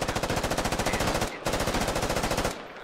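Gunfire in the combat game Squad: long sustained bursts of rapid automatic fire, loud and dense, with a short break midway and a tail-off at the end, no talking.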